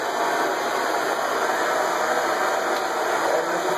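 A torch roars in a steady, close, constant hiss while heating a copper pipe for soldering, with no talk over it.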